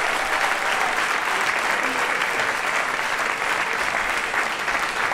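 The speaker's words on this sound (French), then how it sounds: "Merci Anna, je crois qu'on peut l'applaudir encore plus fort" An audience at a political rally applauds, sustained and loud, a dense unbroken wash of many hands clapping together for the whole stretch, with faint crowd noise beneath.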